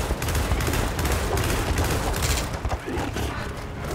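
Dense, continuous rapid gunfire from the co-op Gears of War 4 campaign on Insane difficulty, loud bursts overlapping with booming impacts for the whole stretch, with no voices.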